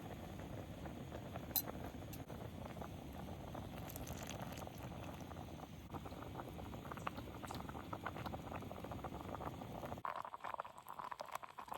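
Water in a camp pot bubbles and patters at a rolling boil outdoors, a dense crackling churn that carries on steadily, then turns quieter and thinner near the end.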